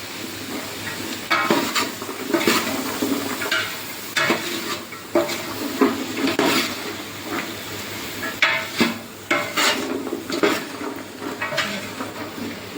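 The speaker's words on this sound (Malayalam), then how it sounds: "കുറെ സമയം ഇളക്കണോ ഇച്ചിരി സമയം ഇളക്കണം അല്ലേ പത്ത് മിനിറ്റ് നേരെ ഇളക്കേണ്ടി വരും" A pot of vegetable kurma with a kilo of chopped carrots is stirred over the heat, giving repeated scraping and clattering strokes of a spoon against metal over a continuous low sizzle, close and fairly loud.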